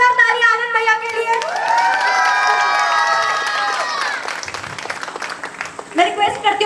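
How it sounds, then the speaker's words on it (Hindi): Wedding sangeet guests cheer and clap for a performer, with shouting and excited voices over the clapping, and people talking at the start and end. "जोरदार ताली आनंद भैया के लिए"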